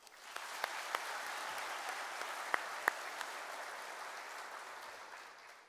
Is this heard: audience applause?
yes